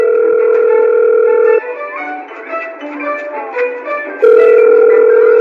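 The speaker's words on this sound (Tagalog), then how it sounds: "O ayan, nagri-ring na." A telephone ringback tone sounds on an outgoing call, two loud steady electronic tone bursts separated by a quieter pause, with no voices present.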